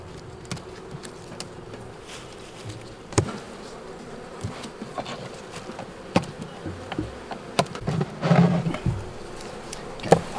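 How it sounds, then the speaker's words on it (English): Dense buzzing of USDA Russian honey bees swarming around a hive in Maine during a fall honey harvest, a constant close drone with individual bees zipping past and occasional knocks of hive equipment. "It's boiling with bees."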